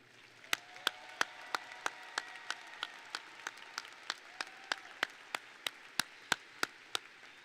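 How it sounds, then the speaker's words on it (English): Applause for school staff at a high school graduation ceremony, heard as sparse, distinct claps spaced evenly like one nearby pair of hands over a faint, distant crowd wash. "showing our appreciation and gratitude with a heartfelt round of applause for our incredible staff"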